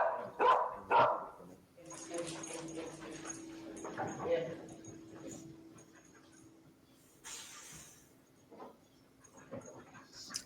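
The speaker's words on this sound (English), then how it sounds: "But this dog is alerting to something." A dog whimpers and yelps in short bursts at the start, close and fairly loud, followed by quieter sniffing and rustling under a steady low hum, with a few faint yips later.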